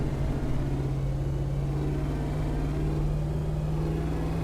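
Heavy truck with a 6.2-litre engine in Euro Truck Simulator 2, its steady low droning hum running continuously and loud, with a strong tonal rumble and no talk.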